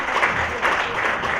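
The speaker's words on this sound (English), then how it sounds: "Let's give a clap." Audience applause at the close of a crypto marketing panel, a dense steady wash of clapping from a crowd lasting throughout.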